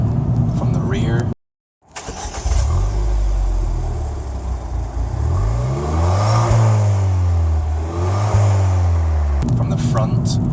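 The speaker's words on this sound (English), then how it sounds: "When you're outside you get a nice little exhaust note from the rear." Ford Fiesta ST revving hard, its exhaust note rising and falling through repeated throttle blips after a brief cutout, loud and close with a steady engine drone throughout.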